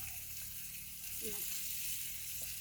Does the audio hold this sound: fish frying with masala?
yes